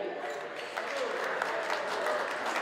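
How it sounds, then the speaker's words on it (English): Wedding guests at the South Gate Manor in Freehold, NJ applaud the couple, giving sustained, dense clapping from a roomful of people at steady volume with crowd murmur mixed in. "One more time, a big round of applause for our beautiful couple right here."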